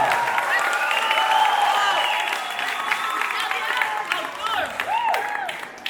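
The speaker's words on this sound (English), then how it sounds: "So let's give them one more round of applause." Audience applause and cheering at a school International Day show, sustained clapping from a crowd with whistles and shouts rising over it, loud and steady before easing slightly toward the end.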